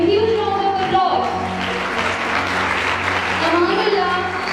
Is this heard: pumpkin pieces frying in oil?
no